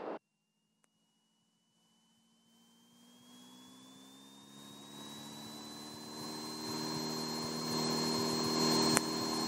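A seaplane engine on its takeoff roll begins faint after a brief click, then builds steadily into a loud, rising roar with a climbing whine and deep rumble, alone without speech.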